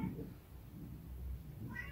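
A cat meows faintly indoors at the start and end of a short stretch, with quiet room noise between the calls.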